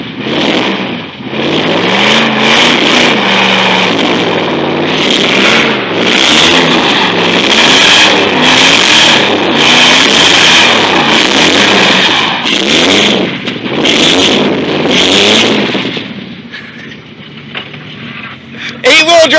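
A Dodge Durango's engine revs hard and strains while trying to pull a Ford F-150, loud and close, with the engine surging and easing in waves as people talk over it.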